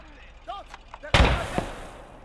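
A grenade explodes in the WWII game Gates of Hell: Ostfront, a single loud, sharp blast with a brief rumbling tail, preceded by faint chirpy game sounds.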